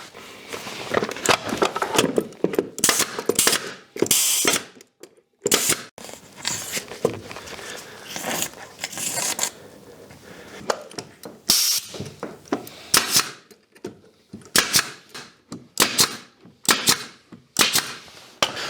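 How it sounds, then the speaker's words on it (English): A brad nailer fires nails into a wooden shelf for a power tool charging station: loud, sharp pneumatic bangs in irregular bursts and quick clusters, close up, with pauses between and no speech. "So quickly get it together with the brad nails and the glue, and we'll get some screws into this."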